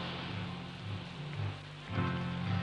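Rain falls steadily as a soft continuous patter, with a low background hum underneath.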